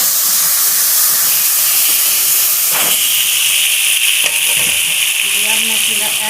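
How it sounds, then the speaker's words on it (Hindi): Onions drop into hot ghee for a daal and set off a loud, steady sizzle and hiss close by. A few clinks of stirring sound over it, and a voice is faintly present. "जैसे घी गर्म हो चुका है, अब मैं इसमें ऐड करने लगी हूँ जी प्याज"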